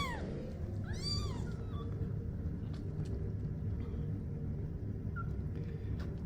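A kitten gives a short, clear meow, then a couple of fainter, thinner peeps over a low, steady indoor rumble.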